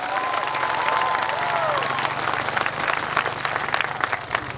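A crowd at a political speech against the Citizenship Amendment Bill bursts into applause, a thick roar of clapping that swells early, then thins into scattered claps and crowd murmur toward the end.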